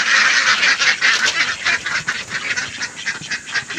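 Domestic ducks call steadily at close range, a loud overlapping run of nasal honks and quacks with no pause and no voices.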